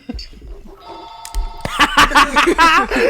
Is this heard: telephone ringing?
yes